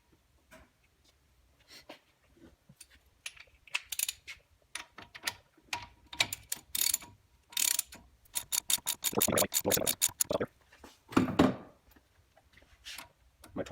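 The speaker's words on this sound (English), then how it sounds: "My torque wrench is set at 75 foot-pounds." A ratcheting torque wrench tightens a fuel injector on a Ford 7.3L diesel, giving bursts of quick close clicks that speed into rapid rattling runs, with short pauses between strokes.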